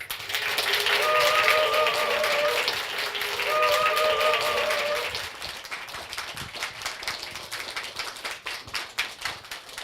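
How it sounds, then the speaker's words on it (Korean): An audience welcomes violinist Park Ji Hye with applause, clapping rising under swelling music, then thinning into scattered individual claps as the music ends. "대한민국을 넘어서 전 세계에서 사랑받고 계신 바이올리니스트 박지혜 씨를 여러분 큰 박수로 맞이해 주세요"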